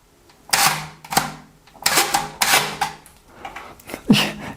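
A Speed Graphic 4x5 large-format camera with a built-in shutter, wound and fired, giving a series of sharp mechanical clacks and whirring snaps spread over several seconds, close and fairly loud with no talking.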